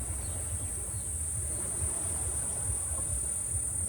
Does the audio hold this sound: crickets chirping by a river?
yes